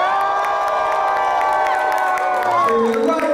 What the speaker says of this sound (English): Cheer to the left.